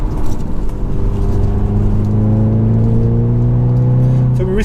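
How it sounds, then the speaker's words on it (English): A Hyundai i20N hot hatch accelerates hard from close inside, engine note climbing steadily with a rising turbo whine over a loud continuous drone, easing off at the end. "A nice bit of turbo whine,"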